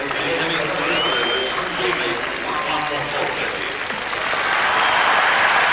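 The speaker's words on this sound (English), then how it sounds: "round of applause for Eddie Hemming's bowling figures just announced over the public address system" Cricket crowd at Old Trafford in 1982 applauding a bowler's figures, a sustained broad spread of clapping from a large distant crowd with a commentator's voice over it.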